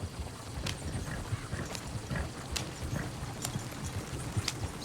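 A horse in the video game Red Dead Redemption 2 walks with a steady, fairly close clip-clop of hooves over a low background rumble, and no one speaks.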